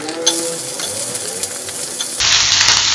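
Chillies and cubed onions sizzle in a hot frying pan for chilli chicken, a steady close hiss that swells into a louder, denser crackle partway through as the onions go in.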